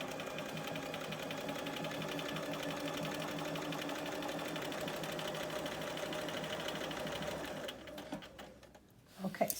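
A sewing machine stitching a jewel-pattern quilt panel, running in a steady even whir of rapid needle strokes for several seconds before stopping, followed by a few faint clicks and handling noises.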